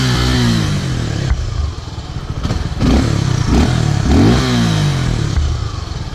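A Suzuki Gixxer SF 250 motorcycle runs in neutral, its steady exhaust note loud and close. A few short throttle blips swell the sound over about six seconds, with no talking.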